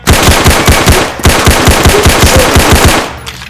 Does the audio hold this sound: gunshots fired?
yes